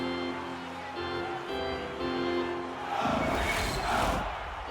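Hockey arena crowd noise in a video game during a tie game in the back half of a period, a steady roar of voices that swells louder toward the end.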